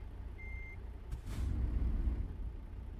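A truck in the American Truck Simulator video game sounds a single short reversing beep over a steady low engine rumble, followed by a hiss and a deeper rumble.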